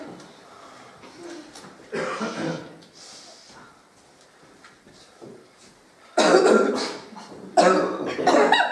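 Coughing from a performer in an amateur stage drama, heard in several rough bursts, the loudest two coming close together near the end, with some faint background murmur between them.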